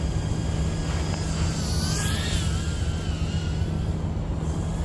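An Emax TinyHawk 1S micro drone flown in angle mode outdoors at a park gives a steady, close buzzing whine whose pitch wavers and rises briefly as power is added, continuous with no voices.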